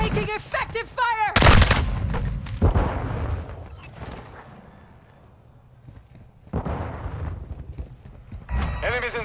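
Gunfire from Call of Duty: Modern Warfare II, with a loud burst of shots and booms early on, more scattered firing and rumbling later, mixed under radio-style voice callouts.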